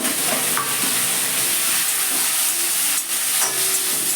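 Vegetables for a matar dal hit hot oil tempered with five-spice and sizzle loudly and steadily, with a few scraping stirs of a spoon, close and without talk.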